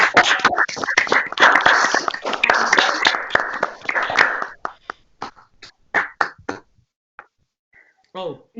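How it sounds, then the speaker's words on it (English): Several people on a group video call clap their hands, first in a dense, overlapping burst for about four seconds, then thinning to scattered separate claps, with a little talk near the end. "Clap your hands."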